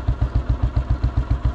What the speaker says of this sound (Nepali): साउन्ड कस्तो छ खोत्रे बाइकको